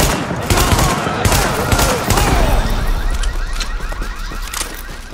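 Shotgun blasts in the video game The Division, several loud punchy shots amid a wailing alarm-like tone and busy combat noise, with voices in the mix.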